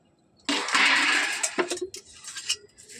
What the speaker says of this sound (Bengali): চুলার মধ্যে কড়াই বসিয়ে দিচ্ছি